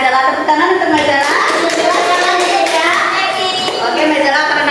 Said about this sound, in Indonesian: tepuk tangan untuk Mbak Zara